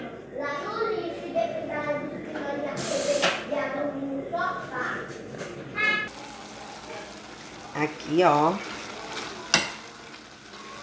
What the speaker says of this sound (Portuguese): Agora eu irei colocar na panela pra fritar.